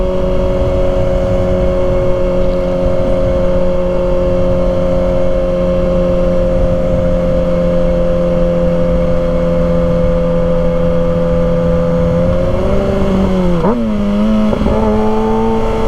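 A 2023 Kawasaki ZX-6R engine drones steadily at high revs while riding, a loud sustained buzz with rich harmonics, then the pitch dips and wavers near the end as the throttle changes.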